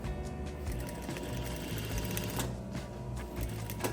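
A sewing machine runs steadily as it stitches a seam with cording, a continuous close, loud whirring rattle of rapid needle strokes with no pauses.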